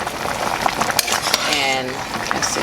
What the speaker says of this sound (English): I'm just gonna stir in the vegetable